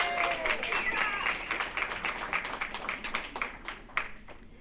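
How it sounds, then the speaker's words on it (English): Audience applause at a State of the District address, a broad wash of clapping that holds steady and then thins a little toward the end, with some crowd noise mixed in. "Let's all give her one more round of applause."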